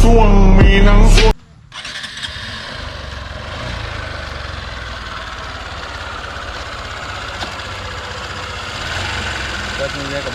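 A motorcycle engine cranks over and catches, then settles into a steady, fairly loud idle that runs alone for several seconds.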